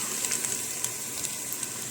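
Onion frying in cooking fat in a pan for okra, a steady soft sizzle with faint crackles, close and continuous with no voices.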